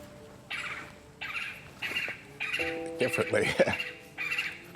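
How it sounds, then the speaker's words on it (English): Repeated bird calls, squawks and chirps in short bursts, moderately close, while a person speaks over them. "I hear the birds."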